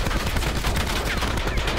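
Rapid ICR rifle fire from Black Ops 4, a dense, loud burst of continuous automatic shots with no gaps, close and upfront throughout.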